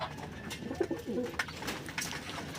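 A racing pigeon from a young bird race category coos softly in a loft, low throaty calls repeating at irregular intervals, quiet and close amid faint background shuffling.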